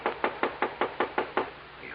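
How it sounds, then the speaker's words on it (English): Eight sharp, evenly spaced knocks on a door ring out close and loud in a quick steady rhythm, a sound effect for a radio drama. "we heard the knock on the door."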